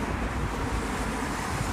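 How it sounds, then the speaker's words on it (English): Strong outdoor wind gusts buffet the microphone during a weak thunderstorm, a dense, loud rumbling roar that runs unbroken for the whole short stretch with no voices. "it's very windy outside"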